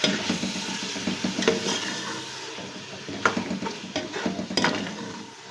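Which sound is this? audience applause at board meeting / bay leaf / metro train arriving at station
bay leaf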